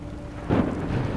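Rain falls and thunder rumbles in the video game Minecraft Story Mode, a soft steady patter of rain under a sudden low thunder boom that swells midway and lingers.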